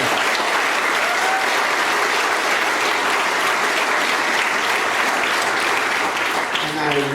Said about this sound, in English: how about another round of applause for him?